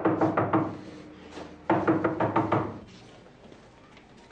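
Rapid knocking on a door in two bursts of several sharp raps each, close and fairly loud, with a pause between and quiet room tone afterward.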